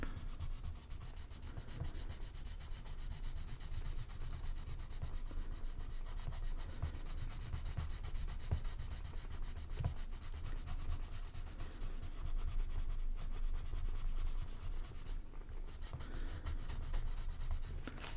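Colored pencil dragging across paper in steady, continuous scratchy strokes, close and soft, with firmer pressure building in the later passes and no talking.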